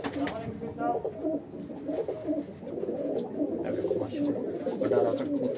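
Breeding pigeons at a home loft coo in soft, repeated rolling calls, with a person talking over them throughout.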